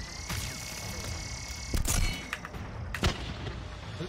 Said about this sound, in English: What is this gun? Like a disc launcher.